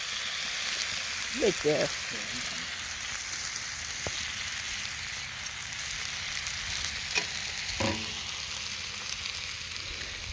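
Breakfast sizzles and fries in a pan at a campsite, a steady close crackle running throughout with a few brief scrapes and knocks, while people talk briefly over it.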